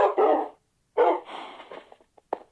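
Dogs in the Minecraft video game let out a few short barks and yips, near and fairly loud, separated by brief pauses and with no voices.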